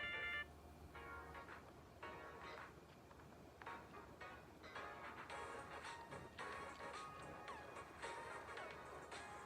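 Samsung Galaxy C4 ringtone "Friday": a soft, fairly quiet electronic tune with pulsing chimes and short musical phrases rising toward the end, with no voices.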